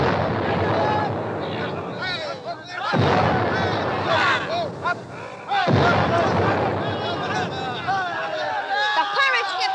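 Musket volleys and explosions from a Disney vinyl record of Swiss Family Robinson, a pirate attack on a cliffside fort, boom and crackle densely over a busy orchestral score, with two sharp breaks between bursts.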